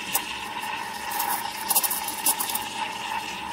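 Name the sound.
steam wand tip steaming milk for latte art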